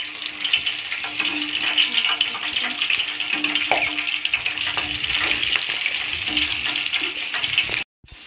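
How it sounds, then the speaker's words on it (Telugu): Onions frying lightly in oil in a pan for cabbage pakoda: a steady, dense hiss and crackle of hot oil, close and continuous, briefly cut off near the end. "నూనెలో ఫ్రై చేసుకోవాలి, లైట్గా ఫ్రై చేసుకోవాలి"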